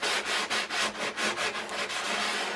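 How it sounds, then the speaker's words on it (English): Wood being sanded by hand before varnishing on a Stormy 45 boat build, a close, steady back-and-forth rasping scrape repeated in even strokes about twice a second. "The more sanding you do, the faster your varnishing will go."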